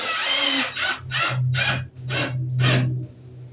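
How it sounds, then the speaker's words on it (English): A power drill drives screws into a trackless train, whirring in five short, loud, close bursts separated by brief pauses. "Go ahead and screw this back down."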